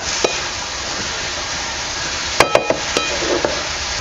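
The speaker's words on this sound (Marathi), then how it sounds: "आता हे बघा भाजी शिजत आलेली आहे" Spring onion greens cooking in a pan, a continuous sizzle broken by a few sharp scrapes and taps of a spoon stirring against the pan, close and fairly loud.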